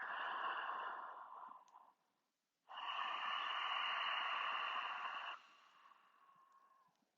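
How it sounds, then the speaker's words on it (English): Slow, steady breathing through the nose with the mouth closed, a soft ocean-like yoga breath; two long hissing breaths separated by a short pause, close and quiet, with no talking. "see if you can actually hear your breath. Get kind of an ocean sound going."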